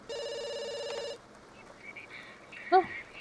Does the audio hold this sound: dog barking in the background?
no